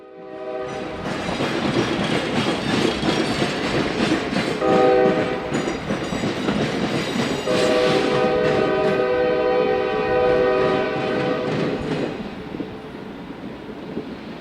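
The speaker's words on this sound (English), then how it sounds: "we catch our final bottle train" A Chicagoland steel-mill bottle train hauling molten iron rolls past, wheels clacking steadily and loudly with a sustained horn blast midway, the rumble fading toward the end.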